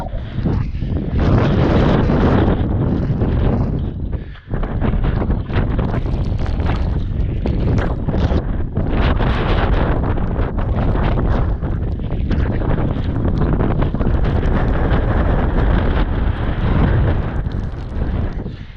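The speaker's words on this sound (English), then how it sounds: "A bit breezy up here, there. Bloody hell. Things windier than last week." Strong, gusting wind on the summit of Pen y Fan buffets the microphone with a loud, continuous roar that barely lets up, with a brief lull partway through.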